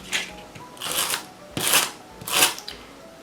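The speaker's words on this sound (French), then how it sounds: "on va mettre du scotch sur l'un des deux" Adhesive tape rips off the roll in three or four quick, crackly pulls and is pressed onto paper while a handbag-shaped gift box is assembled, close and crisp with no talking.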